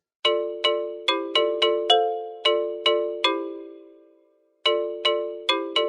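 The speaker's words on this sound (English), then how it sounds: "Let's take a listen to the xylophone with its Amplitude envelope parameters set to their default values" Bright, bell-like xylophone notes at default amplitude envelope settings struck one after another in a lively pattern, with one note ringing out and fading before a final quick run.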